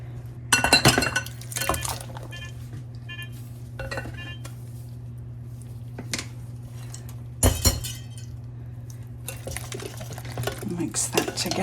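Buttermilk batter being mixed in a glass bowl, with repeated clinking and scraping taps of a utensil against the glass over a steady background hum.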